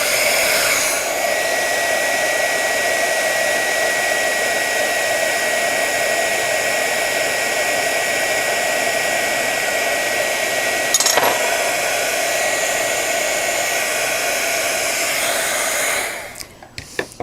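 A heat tool blows hot air onto ThermaClear polymer in a steady, loud, even hiss that holds for about sixteen seconds, with a brief clink partway through, before cutting off.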